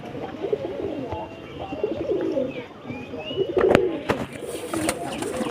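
Several pigeons coo in low, throaty bursts while feeding close by, with a few light chirps and rustles mixed in.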